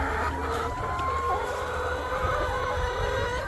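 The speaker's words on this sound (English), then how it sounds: "Happy chickens." Many chickens cluck together in a dense, continuous farmyard chorus, close and fairly loud, with no one speaking.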